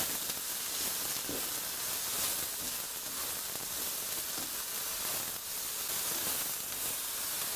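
Mushrooms sizzle in a hot frying pan for a paleo mushroom soup, a steady soft crackling hiss with faint pops, continuous and fairly quiet, with no voices.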